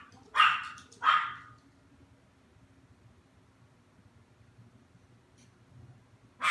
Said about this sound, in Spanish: ¿Están locos estos perros?